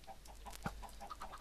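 Soft, repeated clucking from video game laying hens, a steady low patter of short hen calls with one slightly louder squawk in the middle.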